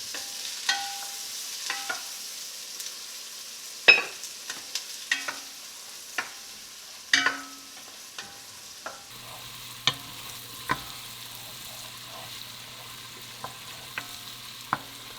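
Chopped yellow onion cooking in a pot as the base for broccoli cheddar soup, a faint steady sizzle broken by scattered stirring clicks and scrapes, close by and with no one talking.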